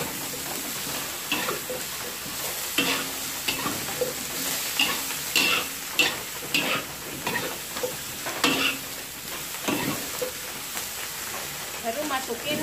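Taro stems frying in hot oil, a steady loud sizzle with stirring scrapes and clinks, while a voice talks intermittently over the cooking.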